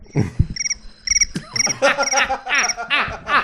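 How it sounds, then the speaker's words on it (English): Crickets chirp in rapid pulsing trills, close and clear, alongside a few low clicks and faint voice sounds. "Crickets?"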